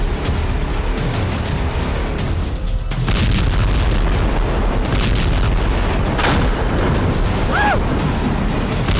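A large explosion at a football stadium in the Majdal Shams area, with dense, loud blast noise and rumble filling the whole stretch, a sharp burst near the start and a sustained crashing roar after.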